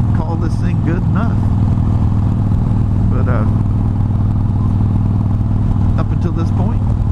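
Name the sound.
Harley-Davidson Iron 883 motorcycle riding on a country road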